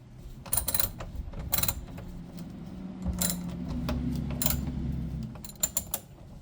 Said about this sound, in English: Here I use a 10mm socket to loosen the screws.